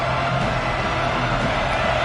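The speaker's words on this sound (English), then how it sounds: "This crowd rising up," A stadium crowd roars during an Oklahoma versus LSU football game, a dense, steady wall of cheering heard from within the stands with no pause.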